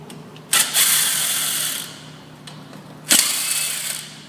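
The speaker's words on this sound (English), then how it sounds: "Those are the two screws you're going to remove." A screwdriver whirs in two short bursts, each over a second long, as screws come out of a door latch escutcheon plate on a 3900 T latch, close up with a quiet pause between.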